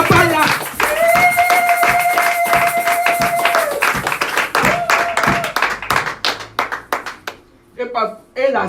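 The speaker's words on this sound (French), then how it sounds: "On va acclamer maintenant pour mon papa Jackie." Congregation clapping during a church service, rhythmic and fairly close handclaps in a steady beat, with a voice singing or calling out over them before the clapping thins out toward the end.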